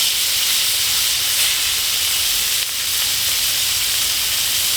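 Food sears in a pan on a camp stove, giving a steady, bright sizzle and hiss that stays loud and even throughout with no voices.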